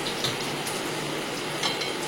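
Hilsa fish sizzling in oil in a wok, a steady broadband crackle and hiss running throughout at moderate level, with no talk.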